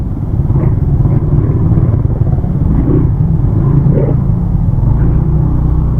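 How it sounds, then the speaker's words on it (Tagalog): Steady traffic rumble of cars and motorcycles on a road during a motorcycle ride near Dingalan, Aurora, with continuous engine drone and occasional throttle swells, no voices. "traffic."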